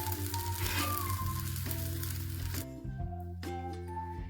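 Thin brinjal slices frying in a pan for kathirikkai varuval, a loud close sizzle with steady hiss, broken by scraping and clattering as the pieces are turned over, then settling back to a softer fry.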